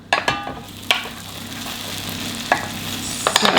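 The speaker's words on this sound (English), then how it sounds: "Listen to that sizzle." Peppers sizzle in a frying pan in a home kitchen, a steady crackling hiss under a few sharp stirring clatters and utensil knocks.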